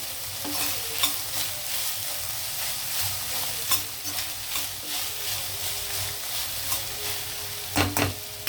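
Green peas fry in a pan for pulao, with a steady sizzle and repeated rhythmic scrapes of a spoon stirring against the metal, close and fairly loud, without any talk.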